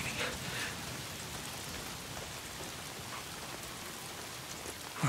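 Steady rainfall in the video game Days Gone, a faint, even hiss of drops on surfaces with no break across the whole stretch.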